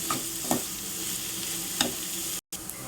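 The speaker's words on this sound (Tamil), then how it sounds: "வெங்காயம் இதில் சேர்த்தாச்சு இப்போ வந்து இதை ஒரு அஞ்சு நிமிஷம் நல்லா வதக்கிடணும்" Onions and curry leaves sauté in oil for muttai idiyappam, a close, even sizzle with a few soft stirring scrapes and a momentary cut to silence near the end.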